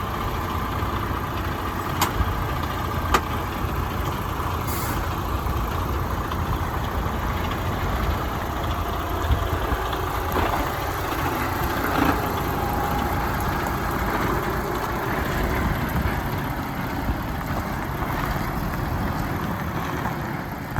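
Articulated lorry engine idling and running steadily while the tractor unit shunts back and forth to line up with the trailer, a continuous low diesel rumble close by with no talk.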